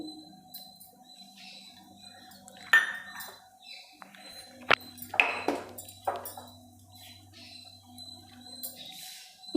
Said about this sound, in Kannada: ಗಟ್ಟಿ ಮೊಸರು ಇದನ್ನು ಸೇರಿಸ್ತಾ ಇದ್ದೀನಿ